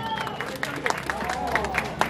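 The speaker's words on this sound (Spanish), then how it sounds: "Un aplauso bien fuerte para ella." Applause for a mariachi performance, a short burst of scattered clapping from a small crowd with a few sharp claps standing out, close and lively, with murmuring voices underneath.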